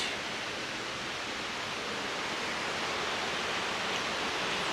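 An old dam has turned into a waterfall, giving a steady, dense roar of falling water. It stays constant and fairly loud with no voices.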